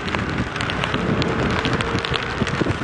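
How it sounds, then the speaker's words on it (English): Heavy rain sheets down during an early-morning safari game drive, making a dense, steady hiss with a scatter of drop impacts, loud and continuous with no voices. "Rain now starting to sheet out of the sky."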